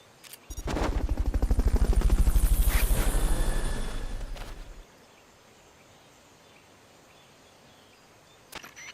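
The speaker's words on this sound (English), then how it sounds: "Fulton recovery helicopter is complete." A helicopter for Fulton recovery in a video game, heard as a loud, steady whir with rapid rotor chop for about four seconds, then cutting off abruptly and leaving near silence with a brief click near the end.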